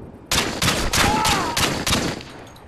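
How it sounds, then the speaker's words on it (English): Rapid bursts of gunfire in Call of Duty: Modern Warfare 2 multiplayer search-and-destroy, several loud shots cracking in quick succession over about two seconds, with no talk. "Shooting before you even got around that corner."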